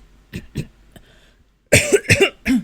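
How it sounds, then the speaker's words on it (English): A few short, soft coughs followed by a louder burst of harsh, throaty coughing, close by and alone with no talk. "I try to cough to remove the weird feeling in my throat"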